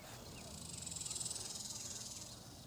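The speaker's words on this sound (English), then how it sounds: "Front part I hear a bee. Or it could have been a fly." Faint, steady insect buzz hovering nearby in a garden of zinnias, a thin continuous whine with a gentle pulsing rhythm and no talk over it.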